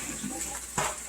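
Tap water runs briefly during hand washing at a sink, a soft steady splashing hiss with a short louder gush near the end, no talking.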